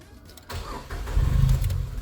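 A 2016 Datsun Go+ Panca is started up, a quick starter crank that catches into a low, steady idle rumble that swells slightly and holds.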